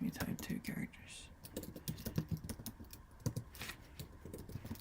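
Chinese characters typed on a computer keyboard, a quick irregular run of close, crisp key clicks with a person talking in between.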